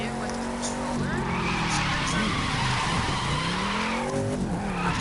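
Shelby sports car drifting in The Crew 2 racing game: steady engine roar with long wavering tire squeals and skids rising and falling throughout, loud and continuous.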